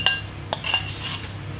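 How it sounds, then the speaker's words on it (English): A spoon clinks and scrapes against a bowl a few times while stirring ANZAC apricot biscuit mixture, with sharp metallic taps followed by softer scraping, close and fairly quiet. "So now we're going to mix everything in."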